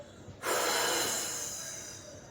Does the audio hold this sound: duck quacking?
no